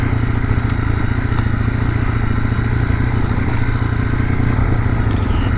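A motorcycle rides a dirt trail, its engine droning steadily and loudly up close under constant rumble, with scraping and clattering from the rough ground.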